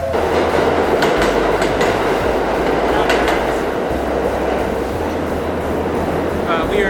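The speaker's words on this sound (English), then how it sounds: "If the train comes and you don't get on in 30 seconds" A New York City subway train arrives at a station, rumbling loudly and steadily with rhythmic clacking of wheels on track, a continuous close roar filling the whole stretch.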